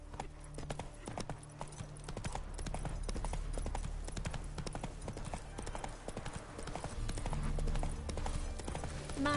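Rapid rhythmic clip-clop of horse hooves galloping in The Witcher 3: Blood and Wine, steady and fairly close, continuing for several seconds at a low overall level with no talk.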